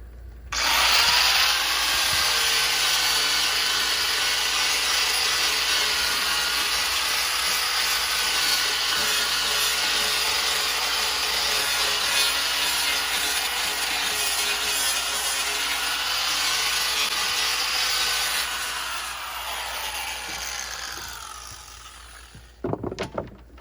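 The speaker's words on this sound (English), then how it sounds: "Need to grind my edges a little bit cleaner and see how it fits." Power grinder working the edges of a steel seat piece for a roadster build, a steady, loud, high whirring grind held for about twenty seconds before winding down, followed by a few short knocks, with no talking.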